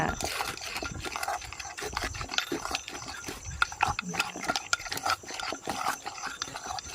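Fish laab made with white soi fish, shallots, spring onion and coriander is pounded in a mortar, giving steady rhythmic thumps and scraping close up while someone talks over it.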